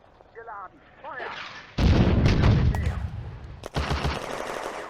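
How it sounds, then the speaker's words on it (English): A high-explosive shell fires at a 45mm anti-tank gun in a video game, landing as a loud, sudden blast followed by a lingering rumble and a second sharp report. A voice speaks briefly just before the shot. "destroys the 45mm anti-tank gun by high explosive shell"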